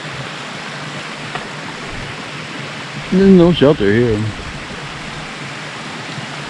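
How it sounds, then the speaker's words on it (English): A small forest brook on the Long Trail gurgles in a soft, steady wash throughout, close by, while someone speaks briefly partway through over the flowing water. "That's a beautiful little brook."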